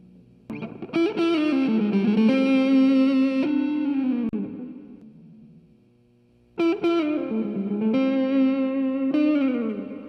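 Distorted electric guitar chords played through a TS9 Tube Screamer overdrive pedal ring out and sustain, fading away before a second burst of overdriven strumming, loud and up close.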